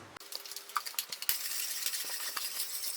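Chicken korma, made the Slimming World way, being stirred in a pan: a steady run of soft scraping and light clinks from the spoon against the pan, close and continuous, with no talk.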